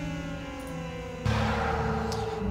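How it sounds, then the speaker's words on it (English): Air raid sirens in the strategy game Rise of Nations wail with a sustained, tonal drone that swells and thickens midway through, steady and moderately faint with no talk over it. "Those air raid sirens do not make me feel happy."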